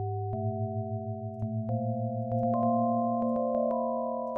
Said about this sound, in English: we have a similar tool that actually converts the EEG into music.